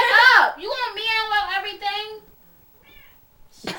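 A cat gives a drawn-out, wavering meow close up, followed by a fainter short mew and a final sharp sound, loud and alone with no talk.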